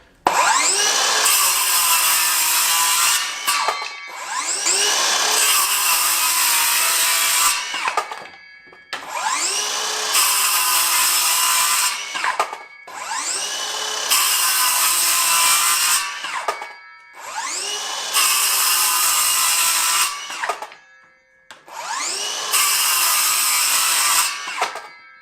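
Greenworks 24V brushless circular saw ripping through 2x4 lumber: six loud, close cuts in a row, each a rising motor whine into a sustained buzzing bite through the wood, separated by short pauses as the blade spins down.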